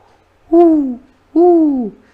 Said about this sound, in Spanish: de una lechuza